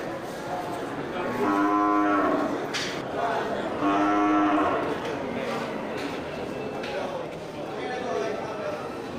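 A jumbo Aceh water buffalo lows twice, deep drawn-out calls a couple of seconds apart, with a fainter third call later over outdoor background noise.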